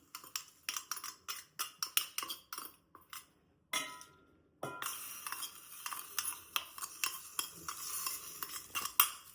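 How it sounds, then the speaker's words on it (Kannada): A spoon clinks and scrapes rhythmically against a bowl, a brief hiss follows as hot tempering hits the kosambari salad, then dense clattering stirring continues close by. "ಒಗ್ಗರಣೆ ರೆಡಿ ಮಾಡ್ಕೊಂಡೇವಲ್ಲ ಇದನ್ನ ಕೋಸಂಬರಿಗೆ ಹಾಕೋಣ"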